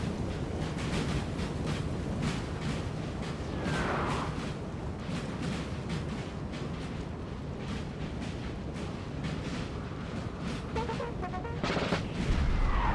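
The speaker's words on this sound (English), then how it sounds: "Artillery here still being a problem." Artillery fire in a Napoleon: Total War multiplayer battle, dense rolling booms and scattered cracks over a constant roaring battle din, loud and continuous with no talking.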